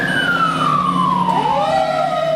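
Fire engine siren on a truck racing to a fire or medical call in City Heights, a loud, close falling wail sweeping down in pitch as a second tone rises beneath it, over steady engine rumble.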